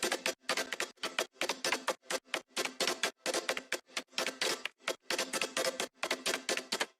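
A gated granular pad driven by a drum rack arpeggiator in an electronic track, chopped into rapid rhythmic bursts of noisy, textured sound with sharp on-off gating, playing alone without kick or snare.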